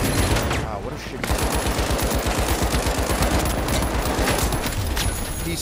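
Rapid machine-gun fire from a heavy-class player in the shooter game The Finals, a loud, steady rattling burst that runs almost without pause after a brief opening gap, with faint voices mixed underneath.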